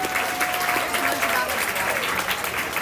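A crowd in the stands at a county fair mutton bustin' event claps for a young rider, steady applause with an announcer talking over it and a faint whistle-like tone running underneath.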